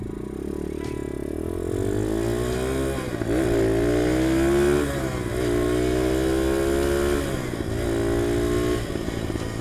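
UM DTF 150 dirt bike engine idling close by, a continuous rattly putter that rises and dips slightly in pitch as the idle wavers, with no talking.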